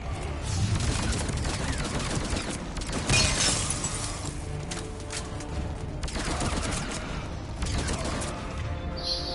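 Sniper rifle fire in Mass Effect Legendary Edition: a few sharp, heavy shots ring out at intervals over rumbling battle noise and game effects.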